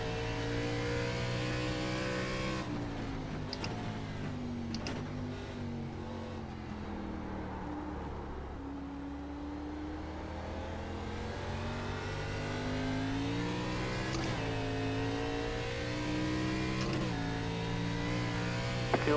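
An ARCA race car engine in iRacing drones steadily and loud, rising and falling in pitch as it revs through gears and corners on the Twin Ring Motegi circuit, with no talk.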